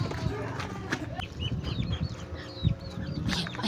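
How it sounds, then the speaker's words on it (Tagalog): Chicken clucking and squawking nearby in a homey setting, short busy bursts mixed with rustling and voices talking over it. "Ayan yung manok."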